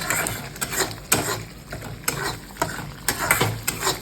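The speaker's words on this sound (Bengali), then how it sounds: "তেলের মধ্যে একটু গোটা গরম মশলা জিরে ফোড়ন দিয়েছি এবারে পেস্টটা দিয়ে দেবো মশলাটা একটু কষিয়ে নিই" Spice paste frying in oil with whole garam masala and cumin, heard as a sizzle broken by repeated sharp scraping strokes of a spatula against the pan, close and brisk.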